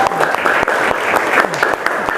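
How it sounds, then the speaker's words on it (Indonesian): A classroom of students claps together at the end of a civics lesson, a dense, steady patter of many hands filling the clip from start to finish. "kita tepuk tangan ya buat pelajaran kita hari ini"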